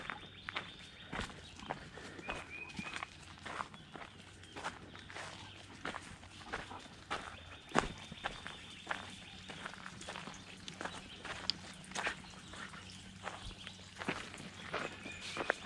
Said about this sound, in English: It feels so good just to go for a walk and get away from it all.